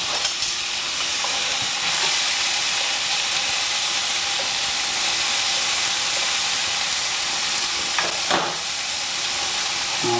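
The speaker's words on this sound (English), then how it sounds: "I'm going to go ahead and drop my tomatoes right down into the pan" Tomatoes dropped into a hot pan alongside nearly cooked pasta hiss and sizzle in a steady, close, continuous frying sound, with a few brief clatters partway through and no talking.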